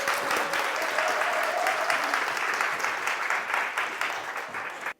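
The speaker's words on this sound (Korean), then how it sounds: "박수 부탁드립니다." Concert audience applauding to welcome a guest of honor onstage, a steady, full clapping from a large crowd that holds at the same level for several seconds, then fades and stops abruptly.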